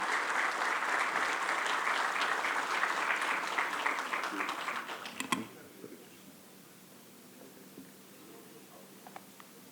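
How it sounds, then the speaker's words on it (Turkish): Applause from an audience at an Istanbul municipal event for farmers, a dense, sustained clapping that runs for about five seconds before cutting off into a quiet room with faint scattered noises. "Lütfen alkışlarınızı arz ediyorum."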